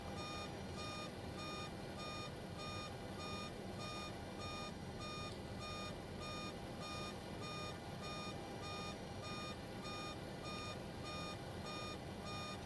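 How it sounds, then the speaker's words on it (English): A Boeing 727 cockpit alarm in Microsoft Flight Simulator sounds as a steady run of rapid, evenly spaced electronic beeps over constant engine and cabin noise, unbroken for over twelve seconds. "if you know what this alarm is going off about"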